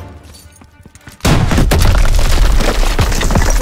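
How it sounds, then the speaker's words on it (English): A launcher blast in Call of Duty: WWII bursts through a weak wall with a sudden loud boom, followed by sustained rumbling debris and scattered gunfire; quieter battlefield noise comes before it. "This wall looks weak. Daniels, use your launcher to clear a path."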